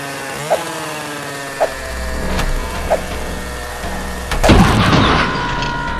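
A Chinese-made motorcycle engine runs with a buzzy, steady drone. It has a few sharp pops along the way, then swells into a louder, rougher burst near the end.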